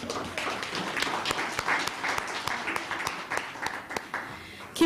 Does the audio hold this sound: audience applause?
yes